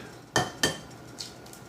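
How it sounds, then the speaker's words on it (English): Utensil knocking against a bowl while mixing baking soda into batter for fried bananas, two sharp clinks followed by a fainter scrape and tap, close and isolated. "we're going to mix this around here, get that dissolved"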